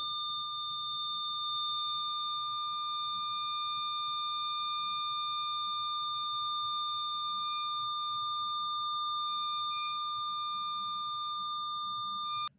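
Steady 1,200 Hz sine tone played through a speaker beside a wind-speed anemometer, a continuous pure whistle holding level and loud for the whole stretch, alone with no voices and cutting off abruptly at the end.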